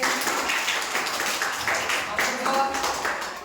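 Children clap together in a group, a dense steady patter of many hands with voices mixed in.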